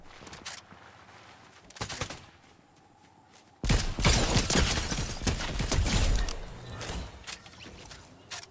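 Video game gunfire comes in scattered shots at first, then turns into a loud sustained barrage of rapid automatic fire from the middle of the clip onward.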